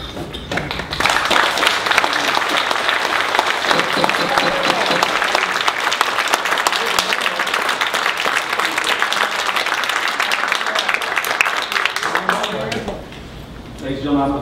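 Sustained applause from the audience at a village council meeting on a debate over a proposed Walgreens, dense and loud for about twelve seconds before dying away, with voices speaking over it.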